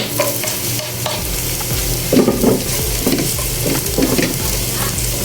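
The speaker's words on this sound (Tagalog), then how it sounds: "At igisa-gisa lang po natin. Hanggang sa mag-golden brown na po." Chopped garlic sizzles steadily in an oiled pan as a spoon or spatula stirs it in bursts, with the frying audible throughout and the stirring scrapes louder in short clusters.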